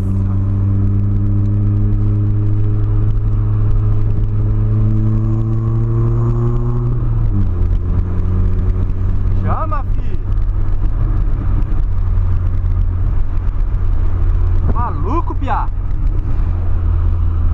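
VW Polo pulling away hard in city traffic, a loud droning engine and exhaust roar rising steadily in pitch before a gear change, with continuous rumble and a voice speaking over it.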